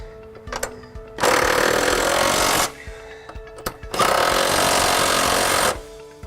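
An impact-style power tool tightens the bolts on stainless steel Raptor step boards being fitted to a 2015 Toyota Tundra CrewMax. It fires in two loud, sustained bursts of about a second and a half each, separated by a short pause, with no talk.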